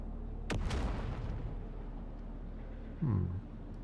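A grenade goes off in Dune: Awakening with a sudden loud burst, and a second heavy rumbling boom follows a few seconds later, both standing out against a quiet background.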